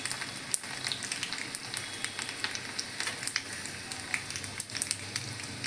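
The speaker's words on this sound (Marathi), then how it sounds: "ती टाकल्यानंतर आपण जो लसूण बारीक चिरून घेतला होता तो टाकायचा." Finely chopped garlic fries in hot oil seasoned with a pinch of asafoetida, giving a steady, close crackling sizzle with small scattered pops throughout and no talking.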